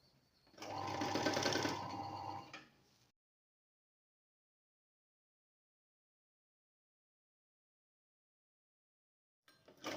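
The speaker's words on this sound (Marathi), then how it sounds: "तर चला त्याला मी ना छान असा गोट मारते." A sewing machine stitches a seam on a sleeve in a short, loud, steady whirring burst, then goes silent, with a brief restart at the very end.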